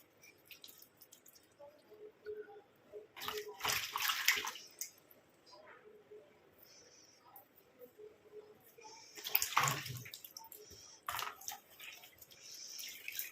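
Hands scoop water and splash it onto a face during a rinse, making two or three bursts of close, wet splashing separated by quieter stretches of dripping.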